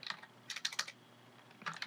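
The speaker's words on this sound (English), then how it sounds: "my typing is terrible today, terrible" Computer keyboard typing, several short bursts of keystrokes in a quiet room, moderately close, with pauses between the clusters and no talk.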